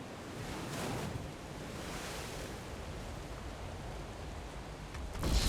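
Steady ocean surf from the video game Revenant, a continuous wash of breaking waves filling the scene at moderate level, with a louder surge at the very end.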